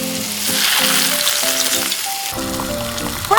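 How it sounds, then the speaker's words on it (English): Onions, garlic and carrots fry with poured white wine in a small pan in a miniature outdoor kitchen, giving a steady, close, continuous sizzle over a soft tonal background. "Stir well, then pour white wine into the pan."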